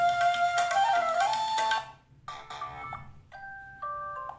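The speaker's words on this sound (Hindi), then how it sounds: "तो बहुत सारे रिंगटोन हैं" Ringtone previews on a Micromax 1b phone: three short electronic melodies in turn, the first bright and busy, then a brief gap before a sparser tune and a final simple two-tone phrase, each clear and close.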